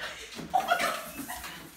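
A dog sneezes indoors with a sharp, brief snort burst that stands out near the middle, followed by softer snuffling and faint dog noises.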